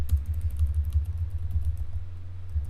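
Fingers type a command on a computer keyboard while working with Python and pandas in PyCharm; faint, rapid keystroke clicks sit over a loud, steady low hum throughout.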